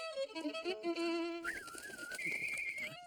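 Several bird calls sound in succession, mixing cooing tones and higher whistled notes, fairly close and clear, with no talking.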